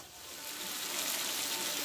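Water poured into a fish head and ash gourd curry in the pan, a steady rising splashing gush that builds and holds, close and moderately quiet.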